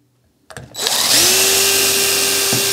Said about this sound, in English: get my drill, and I'm going to drill a little.